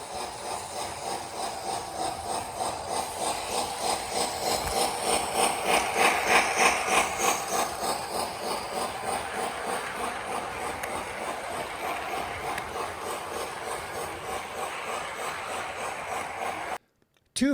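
Lionel model trains run along their track with a steady rhythmic clatter and motor hum that swells briefly and then settles, close by with no voices, before cutting off abruptly at the end.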